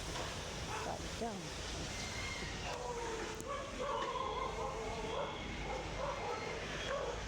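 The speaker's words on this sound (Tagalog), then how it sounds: "Tinahol ako ng aso." A dog barks and yips somewhat in the distance in an outdoor garden, repeated short calls mixed with steady background noise and a passing hum like an aircraft, with a person talking nearby.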